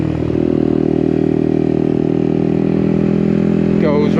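A Yamaha XSR 125 motorcycle riding round a roundabout, its small engine droning steadily and close at a constant pitch, with a brief shift near the end.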